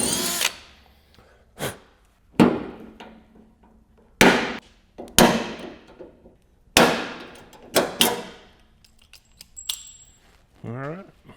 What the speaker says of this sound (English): we'll go ahead and drill the other 2 holes